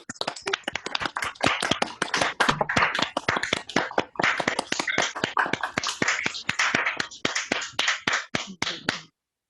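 Participants in an online meeting applaud, their claps arriving as a loose, uneven patter of individual hand claps and taps from several people, close and crisp, before stopping abruptly at the end.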